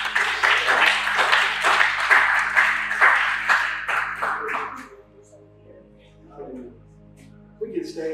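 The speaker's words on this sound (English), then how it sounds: "Let's give God a big hand clap of praise." A church congregation claps hands loudly and steadily for about five seconds, then the applause stops and a few soft voices and a brief noise follow.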